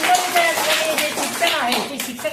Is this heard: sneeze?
no